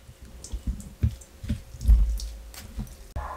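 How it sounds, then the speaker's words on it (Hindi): Grated onion squeezed by hand through a kitchen strainer, its juice dripping out in close, irregular wet drips and soft squelching thumps, with a brief louder squeeze near the middle and no talking. "यहाँ स्ट्रेनर में शामिल कर लेंगे और इसको निचोड़ के, इसका पानी चाहिए हमें, इसका पानी निकाल लेंगे।"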